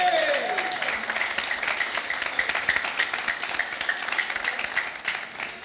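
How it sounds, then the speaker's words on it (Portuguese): Church congregation applauding, a dense, steady wash of clapping that carries on throughout, with a short vocal sweep at the very start. "uma salva de palmas pro"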